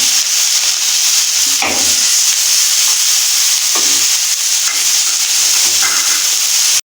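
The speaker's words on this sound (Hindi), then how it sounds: "तो अभी हम इसमें लहसुन और अदरक के पेस्ट को डालेंगे, इसको भी थोड़ा बीच में भूनेंगे।" Sliced onions, fried golden brown, sizzle in hot oil with garlic and ginger paste while a spoon stirs and scrapes the pan in occasional strokes, a steady close hiss with no talking.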